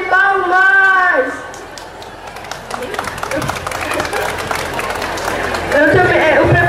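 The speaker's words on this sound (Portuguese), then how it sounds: "Ele merece uma salva de palmas!" A crowd applauds and chatters at a town's 125th-anniversary public celebration in Canhotinho, clapping rising after a voice fades and continuing steadily, with talk mixed in.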